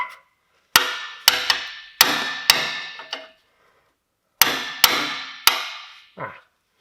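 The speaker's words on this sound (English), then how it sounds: "take it off with a" Sharp hammer blows knocking an O2 sensor bung off a BMW Mini exhaust, in two bursts of metallic strikes: four quick ringing hits, a pause, then three more, each loud and close with a short decaying ring.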